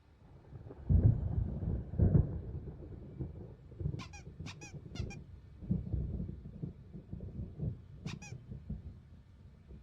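Low thunder rumbles roll through a stormy night in the video game Alan Wake, with a couple of heavier booms early and a few high squeaky calls cutting through the steady rumble.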